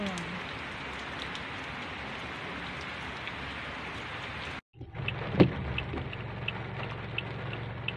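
Steady, dense heavy rain patters on a surface, cuts out briefly, then returns a little lighter as it eases, with scattered drops and a faint thump, in Chumphon, Thailand.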